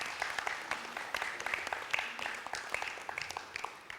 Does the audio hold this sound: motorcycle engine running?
no